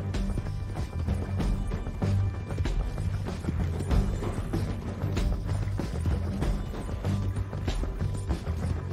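Steady, rhythmic horse hooves clopping in Red Dead Redemption 2, a continuous close gallop with repeated thuds over low rumbling and scattered background noise.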